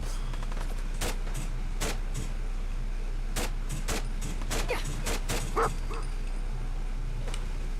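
A dog barks in the Fallout 4 video game, a rapid series of sharp, close barks with a few yips, scattered over a low steady background hum.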